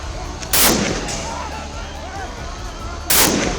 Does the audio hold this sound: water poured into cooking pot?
no